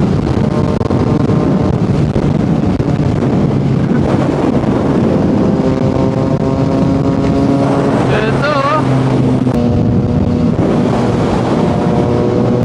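A big bike motorcycle cruising on an expressway at night, its engine drone steady and loud under heavy wind rush, with rising and falling engine tones through the middle.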